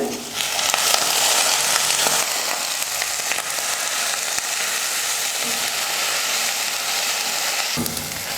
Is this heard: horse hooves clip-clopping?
no